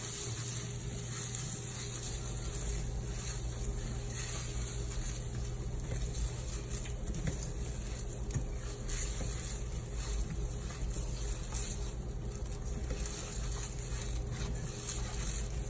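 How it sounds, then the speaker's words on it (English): Rice being stirred in hot oil in a pan at the start of making risotto, a steady low sizzle with soft stirring scrapes running continuously under a constant hum, no talking. "I'm gonna stir it until it's nice and coated in the oil"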